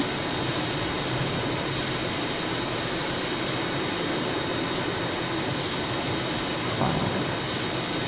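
Jet engine roar of a T-45 or MB-339 trainer in Microsoft Flight Simulator 2020 during low-altitude flight, a steady dense broadband rush with no talk.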